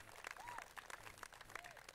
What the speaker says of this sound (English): So give a round of applause for my mom.